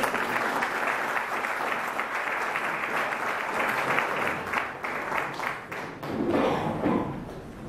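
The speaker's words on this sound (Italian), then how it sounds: "Un applauso" Steady, loud applause from an audience at an Italian national poetry competition continues for several seconds as a dense wash of clapping, swelling slightly near the end.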